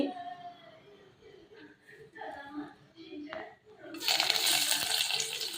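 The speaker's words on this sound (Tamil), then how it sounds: "எண்ணெய் காஞ்சி கடுகு போட்டாச்சு." Mustard seeds spluttering in hot oil for tempering rasam: a sharp, crackling sizzle bursts in abruptly partway through and keeps spattering loudly, following quieter clinks and faint voice-like sounds.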